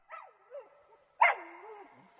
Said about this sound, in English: A shrill barking came from one of them, and the boys saw a tiny black poodle standing up.